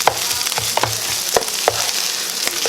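Hash and egg fry in a hot pan while being mixed, a constant sizzle broken by repeated sharp scrapes and taps of the utensil against the pan in an uneven rhythm.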